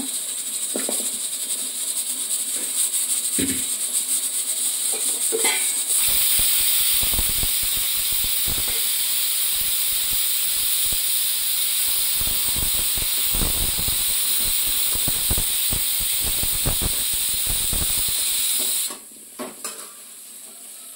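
A pressure cooker on a stove hisses loudly and continuously with steam and a high whistling tone for most of the stretch, over scattered clattering, then cuts off abruptly near the end.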